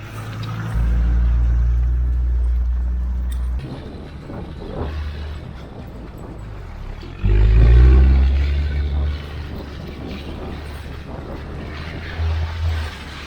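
Land Rover Defender TD5 driving off-road on a muddy hill track, diesel engine droning steadily with a louder low surge of revs partway through, close and continuous.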